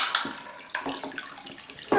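Water splashes and sloshes in a toy aquarium as a small rubber wood toy fishing boat moves around, giving close, fairly loud, irregular splashes and trickles with no talking.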